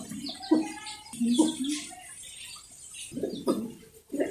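Mundian pigeons at a pigeon farm cooing in soft repeated bursts close by, with chirps and faint rustling between the calls.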